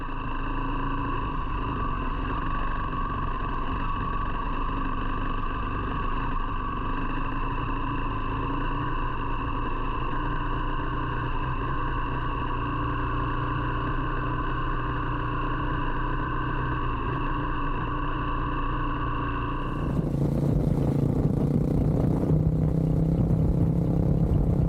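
A Beta Alp 200 off-road motorcycle rides a green lane, its engine holding a steady droning hum before turning rougher and noisier near the end.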